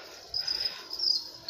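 Crickets in a damaged cricket-farming pen keep up a steady, shrill, continuous chirring at close range, with no voices.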